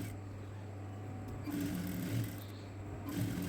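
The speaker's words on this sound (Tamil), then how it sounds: "லைனிங் அட்டாச் பண்ணும்போது ஓரத்துலேயே அந்த தையல் போடுறோம் பாருங்கள்" Sewing machine stitching lining onto the edge of a churidar, a soft steady mechanical whir with low rhythmic chugging, heard close and fairly quiet.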